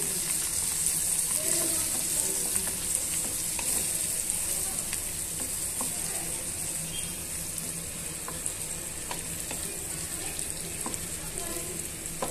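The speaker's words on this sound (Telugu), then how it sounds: "పసుపును యాడ్ చేసుకున్న తర్వాత ఇవన్నీ బాగా మిక్స్ చేసుకొని వేయించేసుకుందాం" Potatoes frying with turmeric in a pan, stirred now and then, give a steady close sizzle with occasional scraping taps throughout.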